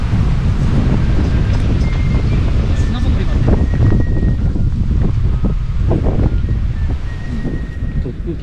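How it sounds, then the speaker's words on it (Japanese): Wind gusts hard across the microphone on an outdoor hike in the Okumusashi hills, making a loud, continuous roar and buffeting that dominates the scene while people talk faintly underneath. "突風来ましたね"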